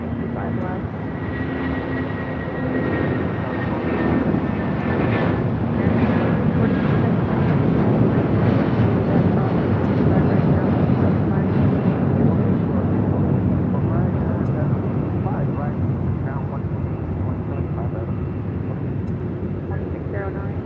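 A heavy passenger jet taxis at LAX, its engines making a steady, broad roar that holds the whole time, with radio chatter mixed in underneath.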